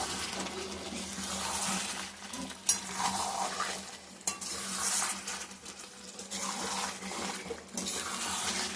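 Chicken with spices and potatoes being stir-fried for chicken kosha, a continuous close sizzle with a spoon scraping and stirring in the pan and occasional clanks of utensil against metal.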